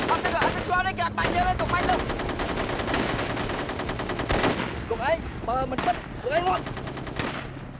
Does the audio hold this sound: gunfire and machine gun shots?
yes